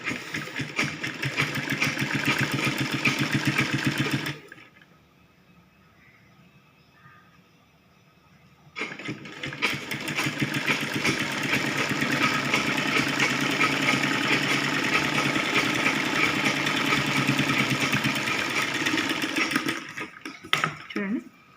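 Sewing machine stitching blouse fabric, a fast steady whirring run that stops for a few seconds, then starts again and runs continuously, close and fairly loud.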